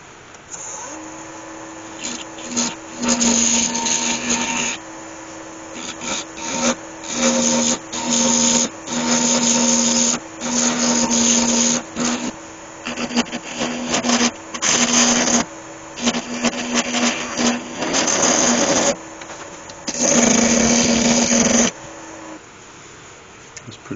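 On a wood lathe, a resin and beech ovoid is cut, giving a steady motor whine and repeated bursts of scraping cutting noise, some long and some short, loud and close, with no talking.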